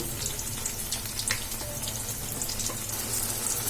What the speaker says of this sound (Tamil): இப்போ வந்து எல்லா பக்கமும் நல்லா ஃப்ரை ஆகட்டும்.